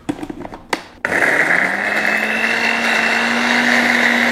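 A blender grinding spices starts abruptly after a few faint taps and runs steadily at high speed, a loud, continuous whirring grind close by.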